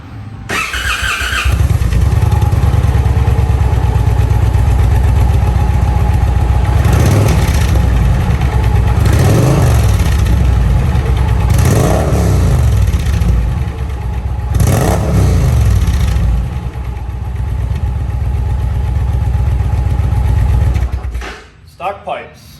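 An Indian Challenger motorcycle on stock exhaust pipes starts, settles into a loud, deep idle, then is revved in several rising and falling blips before dropping back to idle and shutting off near the end.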